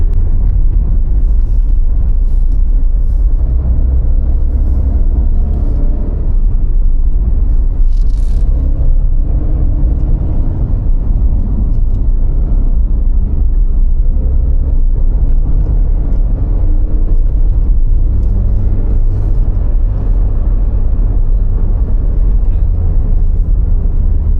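Car driving fast on a road in West Java: a loud, continuous low rumble of engine and tyre noise with steady wind roar and small bumps, unbroken for the whole stretch, with no talking.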